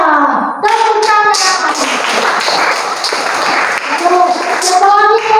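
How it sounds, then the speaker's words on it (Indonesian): Pupils applauding a classmate's answer in a school lesson, a burst of clapping in the middle with children's voices before and after it. "Iya, tepuk tangan."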